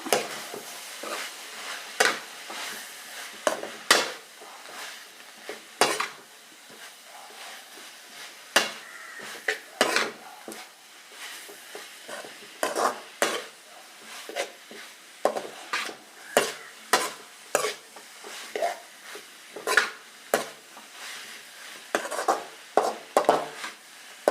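Payar and cabbage mezhukkupuratti with chicken masala stirred in a pan, steady repeated scraping and clattering strokes of a spoon against the metal over a faint sizzle, close and without talk throughout.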